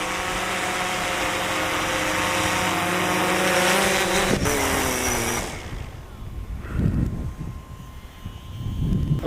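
A DJI Phantom 4 Pro drone hums with a steady high-pitched propeller whine, loud and close at first, then cutting away to quieter wind and handling noise.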